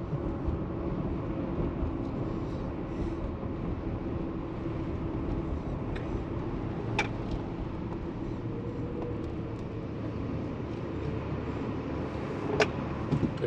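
A car with a 4L60E transmission accelerating on the road to pass other vehicles, a steady loud engine and road drone heard from inside the cabin, with a couple of brief ticks.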